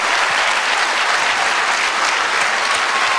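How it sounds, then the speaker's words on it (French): An audience at an awards event applauds the volunteers with a dense, loud, sustained burst of clapping that holds steady throughout. "On peut les applaudir. Je voudrais qu'on les applaudisse également."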